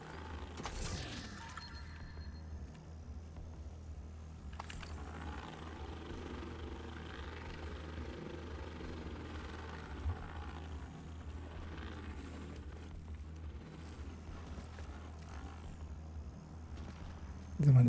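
A player's drone flies along and follows in a video game, a steady mechanical whir and hum running throughout at moderate level with occasional clicks, alongside faint game sounds.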